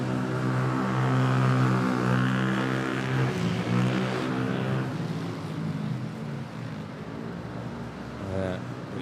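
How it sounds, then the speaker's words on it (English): A Gulf Air Boeing 787-9 Dreamliner departs Manila for Bahrain, a loud humming engine drone with pulsing tonal layers that swells early and then gradually fades into the distance, with a voice talking briefly over it. "Lined up is Gulf Air GF155 headed to Bahrain on a Dreamliner"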